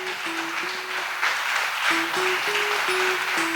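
Church congregation applauding together after a prayer, a steady broad wash of clapping mixed with a sustained keyboard chord underneath, fairly loud and continuous throughout.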